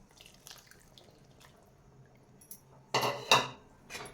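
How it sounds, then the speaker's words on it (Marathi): Water swirled through a spice vessel is poured into a bowl, making a short, close splash with clinks of metal near the end, after a quiet, faint stretch. "हे पाणी घालून घेणार आहे म्हणजे आपला मसाला वाया जाणार नाही"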